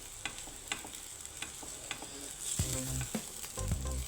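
Vegetable noodles stir-fried in a pan with pepper, giving a steady close sizzle broken by clattering scrapes and tosses of the spatula that grow louder and busier toward the end.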